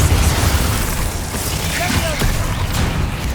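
A Bombarda blasting spell from Hogwarts Legacy detonates in a loud, sustained rumbling boom that rolls through the whole moment with crackling debris, and a voice seems to be mixed in.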